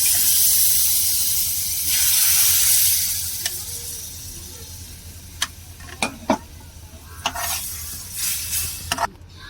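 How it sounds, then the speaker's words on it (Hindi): Whole-wheat flour roasts in a hot pan with milk added, starting as a strong bright hiss that fades into a quieter bubbling simmer, broken by several sharp spoon clicks and taps near the end. "अब इसमें दूध डालूँगी,"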